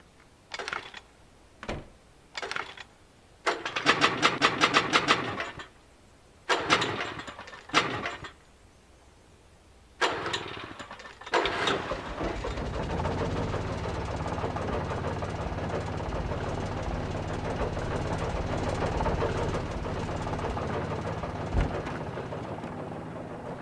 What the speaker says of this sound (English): An old generator had been connected to the power cable.